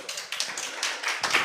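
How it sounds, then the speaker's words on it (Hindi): A church congregation claps at a prophet's sermon: a short, scattered burst of hand claps, moderately close and fairly soft. "ताली मारा।"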